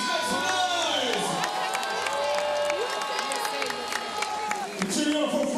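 Spectators at a 3x3 basketball World Cup game cheer and shout for Team USA, a loud mix of whoops, voices and some clapping that surges and holds throughout, with an announcer's voice also heard.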